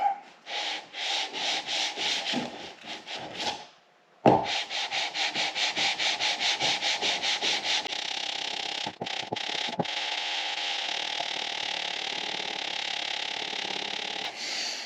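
Steady rhythmic back-and-forth rasp of sandpaper on a Subaru Forester's metal engine head, close and loud, with a brief pause before the strokes resume and then settle into continuous scrubbing.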